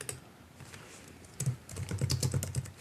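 Computer keyboard keys tapped in a light, irregular patter that grows busier and louder in the second half, close up in a quiet room with no voices.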